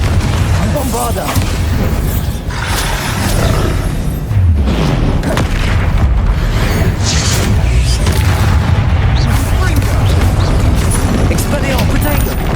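Repeated booming blasts from the Bombarda spell during Hogwarts Legacy combat, heavy explosions thudding one after another amid dense battle noise, with voices speaking over the fighting.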